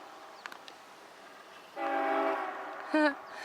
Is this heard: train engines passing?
yes